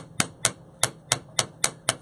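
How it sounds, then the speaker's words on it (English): Seven sharp, evenly spaced hammer strikes ring out as 16 gauge wire is flattened for jewelry wire working, each a crisp metallic tap close by with no talking. "Continue hammering until you have everything"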